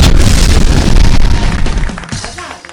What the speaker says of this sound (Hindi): ये पटाखे एक बार फिर फोड़ो ना।